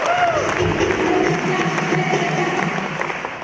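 An audience at a recognition speech event gives a round of applause, a broad crowd clapping that starts full and gradually thins and fades, with some faint tonal sound and murmur underneath.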